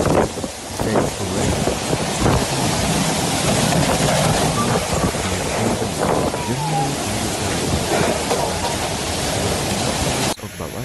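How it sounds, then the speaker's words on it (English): Strong storm waves crash against sea walls, a loud, continuous roar of surf and wind-buffeted spray that rumbles steadily throughout. "were hit by strong waves crashing against sea walls"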